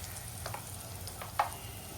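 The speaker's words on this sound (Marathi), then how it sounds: "मी आता मस्त सॉफ्ट होईपर्यंत परतून घेते" Masala sautéing in a hot pan gives a faint, steady sizzle with a few soft scraping stirs, quiet and close with no voices.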